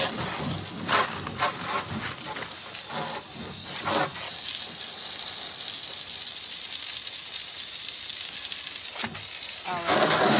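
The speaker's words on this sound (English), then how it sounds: "Let me rinse the bottom of it." Running water splashes and hisses steadily against the bottom of a plastic rain barrel during outdoor rinsing, with a few louder bursts of spray early and near the end, close and continuous with no speech.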